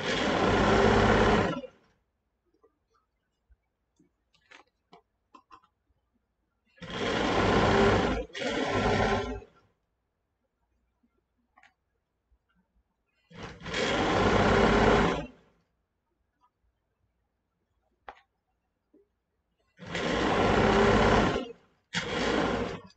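A sewing machine backstitches at the start of a seam on an arm shawl, running in four separate loud bursts, some split by a brief pause, with near silence between them.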